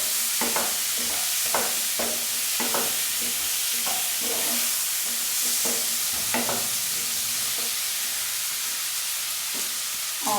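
Potatoes frying in a pan for aloo matar pulao, a continuous loud sizzle broken by repeated sharp scraping stirs of a spoon against the pan, evenly spaced through the first half.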